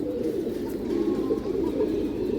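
A pigeon coos in low, rolling murmurs, steady and fairly quiet close by, with a soft background hum and no talking.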